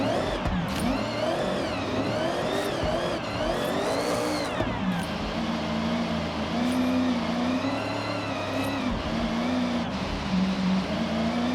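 A tuned Mitsubishi Evo IX drift car in Forza Horizon 6, its engine revving up and down continuously at close range, rising and falling in pitch through second gear.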